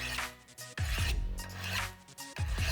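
Strokes of a Work Sharp Angle Edge knife sharpener, a steady series of rasping rubs of blade against abrasive, each swelling and fading in an even rhythm, close and fairly loud.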